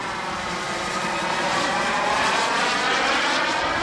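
A twin-turbine A-10 Thunderbolt II giant RC scale jet model flies before landing, its steady loud turbine roar and whine holding evenly throughout with no voices.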